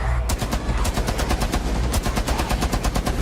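A mounted light machine gun in the Rainbow Six Siege Outbreak game mode fires a long, loud sustained burst, rapid evenly spaced shots rattling on for about three seconds.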